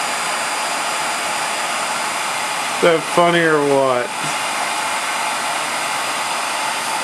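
A hair dryer blows steadily at close range as it dries motor parts, its broadband whoosh running unbroken throughout, with a brief spoken remark in the middle riding over the constant airflow.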